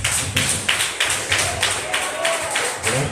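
A church congregation claps along in a steady rhythm, each clap landing roughly every third of a second. The claps are close and moderately loud over a low, murmuring room background.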